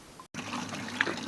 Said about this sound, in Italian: Ora accendiamo la pompa di sentina e vediamo che succede.